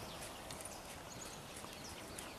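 Faint hoofbeats of a horse trotting in a steady rhythm, distant and quiet under a hiss of outdoor noise, with a few birds chirping.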